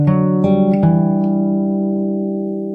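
Close fingerpicked acoustic guitar plays the next phrase: a few quick plucked notes at the start, then a held chord that rings out and decays gently over a couple of seconds, with no voices.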